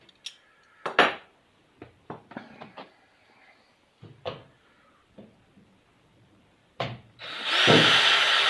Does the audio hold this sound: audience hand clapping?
no